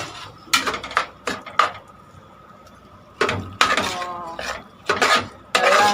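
Chicken is mixed with biryani masala in a metal pot, giving repeated loud scraping and clanking spoon knocks in bursts with short pauses between them.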